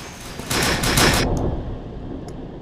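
Rapid automatic gunfire in the online first-person shooter UberStrike, a dense burst of shots lasting under a second, followed by a fainter single shot after a pause.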